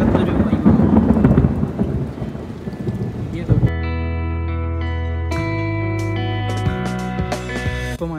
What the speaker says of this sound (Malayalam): വീണ്ടും മഞ്ഞായി, മഴയും വരുന്നുണ്ട്